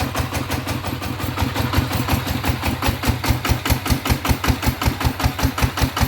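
A Kubota ET115 single-cylinder engine, upgraded for paddy-field work and water pumping, runs loud and close with a steady, heavy thumping beat that quickens slightly as it revs.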